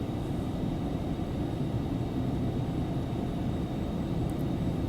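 Twin jet engines of an Embraer Phenom 300 spool at takeoff thrust in the X-Plane 11 flight simulator, a constant deep roar with a faint high whine, steady and loud with no voices.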